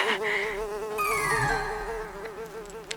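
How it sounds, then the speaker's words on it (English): A close, continuous insect buzz that wavers in pitch as it moves around, loud and steady throughout with no talking. "It's a bee, Mr. Beetle."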